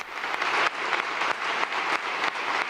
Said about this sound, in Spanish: Escuchamos de fondo estos aplausos